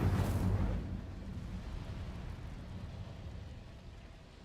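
Incendio fire spell cast in the Hogwarts Legacy video game: a sudden loud whooshing burst that settles into a lingering low crackling rumble, fading slowly with no talk.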